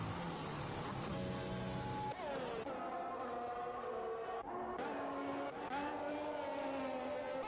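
An Alpha Tauri Formula 1 car on a flying lap in F1 2021 at the Russia circuit, its high engine whine rising and dropping through gear changes, steady and fairly faint throughout.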